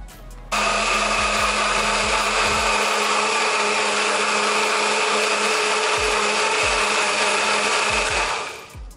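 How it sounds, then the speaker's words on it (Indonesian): A small kitchen blender grinds chili peppers with a loud, continuous motor whine that starts abruptly, holds steady for about eight seconds, then winds down, with faint knocks at the start and end. "Lanjut aku akan blender ini si percabeannya."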